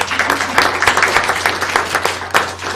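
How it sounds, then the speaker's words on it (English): An audience at a school board meeting applauds a student science winner with dense, steady clapping that fills the room for a few seconds. "Let's give him a round of applause"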